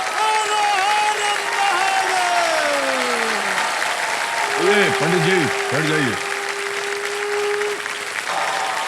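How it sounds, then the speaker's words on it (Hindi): A television game show studio audience claps steadily through the whole stretch, loud and dense, for the quiz show Kaun Banega Crorepati. A host speaks over the applause and a melodic musical sting plays. "एक बार फिर जोरदार तालियां"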